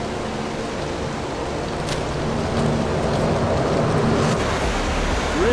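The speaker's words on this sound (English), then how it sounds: "Rain coming down hard now. The creek is swollen right up to almost over its banks." Heavy rain pouring down beside a swollen, rushing creek almost over its banks, a continuous loud broadband roar of water and rainfall close by, with no talking.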